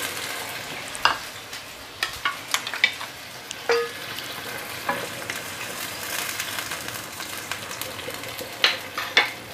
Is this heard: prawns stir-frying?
yes